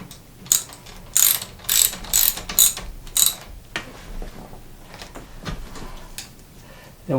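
A ratchet tightening a part on an old mountain bike during servicing gives several quick bursts of clicking pawl ratcheting, close and loud, spread over a few seconds with faint mechanical handling between.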